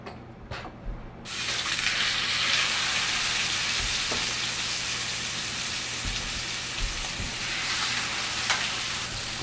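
Beef shank sears on a very hot surface in avocado oil and ghee, giving a loud, steady sizzle that starts suddenly and keeps going, with a few faint clicks and no talking.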